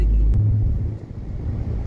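A car cruising on a smooth highway in Maharashtra, a low, even engine and tyre rumble with a slight swell partway through and no talking.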